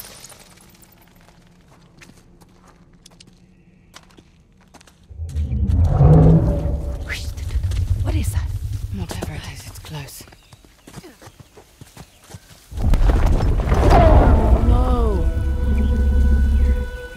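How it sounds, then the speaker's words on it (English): Explosions and a rumbling collapse in the game Uncharted: The Lost Legacy arrive in two heavy bursts, a loud booming roll midway followed by a second deep, sustained crash, with quieter ambience between. "Those explosions we heard must have triggered the collapse."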